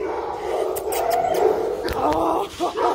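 A shelter dog gives short yips and whimpers close by, mixed in with ongoing talk from people nearby.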